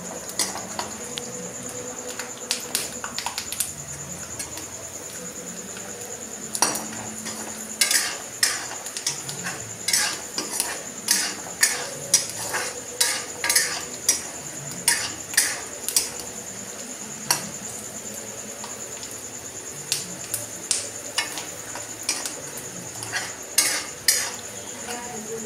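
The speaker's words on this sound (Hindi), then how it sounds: "मूंगफली के दाने को अच्छे से भून ले" Peanuts frying and being stirred in a pan, with a soft continuous sizzle under repeated sharp scrapes and clinks of a spoon in an uneven rhythm. Close and fairly loud, no speech.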